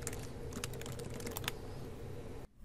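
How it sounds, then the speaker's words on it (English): Rapid clicking of computer keyboard keys in a quiet room, a quick burst of keystrokes that stops abruptly near the end. "So online pictures, I'm going to type Centennial College again."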